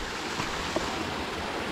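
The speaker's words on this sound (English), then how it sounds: "You can see the streams." Steady, even rush of a flowing mountain stream at Manichude near Kathmandu, a continuous broadband wash with no voices.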